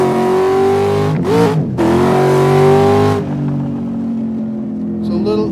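A period-correct race car engine revs loudly and steadily close by, its pitch dipping and climbing between blips before settling into a lower idle, with nobody talking over it.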